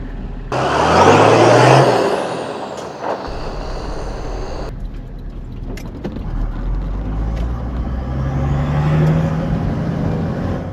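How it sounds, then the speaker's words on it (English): A hot-wired 4WD engine roars up close, then settles into a rumbling idle and revs again as the vehicle pulls away, loud with no talking. "I've successfully hot-wired the car. Time to get out of here."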